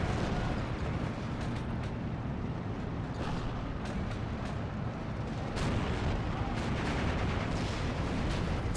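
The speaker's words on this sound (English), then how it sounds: "I did bring in a 60mm mortar to lay on this position and suppress" Mortar fire from a 60mm mortar in the Steel Division 2 war game rumbles loudly and continuously, dense booms and crackling blasts layered into a constant roar with no break.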